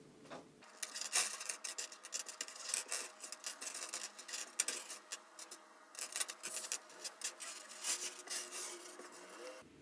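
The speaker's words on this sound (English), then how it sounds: "I'm actually just going to divide these M4 nuts and bolts, as you do have some of various lengths." Small M4 nuts and bolts of several lengths are sorted by hand, giving quiet, continuous rubbing, clinking and scraping with irregular small clicks throughout, close and faint, with no talk.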